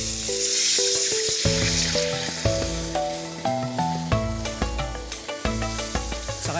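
Stock poured into a hot pan sizzles and hisses steadily throughout a Filipino cooking segment, while bright background music with a bouncing melody plays over it and no one speaks.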